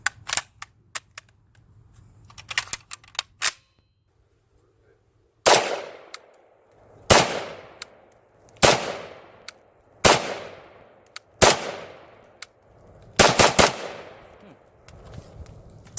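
A CETME L rifle fired outdoors with an OK Industries magazine, a few quick faint pops at first, then six loud, sharp, widely spaced shots, each ringing off with a short echo tail.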